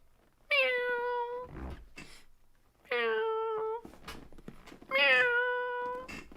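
A person imitates a cat, giving three drawn-out, clear meows spaced about two seconds apart, loud and close, with faint clicks and breaths between them and no speech.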